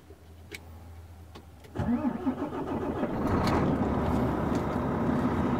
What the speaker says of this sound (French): Je mets en route mon véhicule.